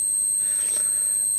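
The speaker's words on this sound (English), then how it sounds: "You can hear a beep that has all to do with the resonance frequency from the transformer" A homemade 12-18 kHz high voltage oscillator circuit with a resonating transformer emits a steady, piercing high-pitched tone, loud and continuous, with a faint brief rise in noise partway through.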